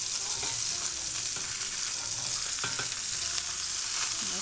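Blackened lionfish frying in a pan, an even, dense sizzle with occasional soft clicks of a utensil, steady and close with no talking.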